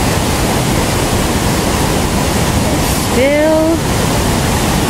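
A rushing river at Duchesnay Falls in North Bay, Ontario, roaring as a loud, steady broadband wash of water throughout, with a brief spoken word near the end.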